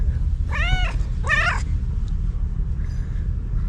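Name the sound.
cat meowing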